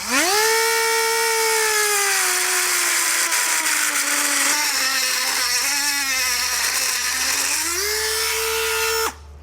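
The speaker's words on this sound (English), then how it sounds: "So we're just going to use a cutoff wheel to trim this." A cutoff wheel trims plastic bumper parts on a 2020 Chevrolet Sonic, whining loudly and continuously, its pitch sagging under load and rising again before it cuts off abruptly.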